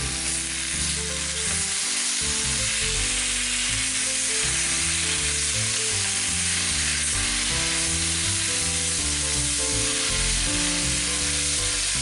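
Tomatoes added to an overfilled hot frying pan for tomato pasta sauce hiss and sizzle in a steady, loud wash that runs without a break under a prominent tonal background.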